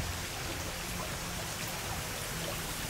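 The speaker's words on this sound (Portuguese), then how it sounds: "Essa aqui então é a parte da nossa cascata" Water from a small natural cascade runs over rocks in Atlantic Forest woodland on the coast of Rio Grande do Sul, heard as a steady, even rush of broadband noise with no talking.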